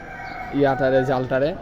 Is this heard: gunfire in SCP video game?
no